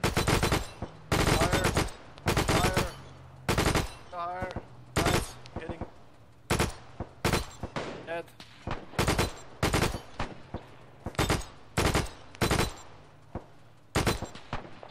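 Gunfire opening on a building in a WW2 video game set in Norway, with repeated loud bursts of automatic fire in clusters, short gaps between them and players talking through the pauses.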